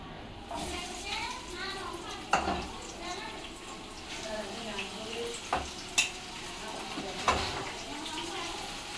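Sliced onions go into a hot pan to fry for a homemade mutton curry, giving a close, continuous sizzle. Spatula stirring and a few sharp metallic clinks break through, and faint talk is audible underneath.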